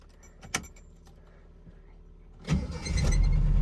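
An abandoned Mercury Capri Turbo, left sitting for 23 years, cranks and fires right up after a brief jangle of keys, then settles into a loud, steady idle close by.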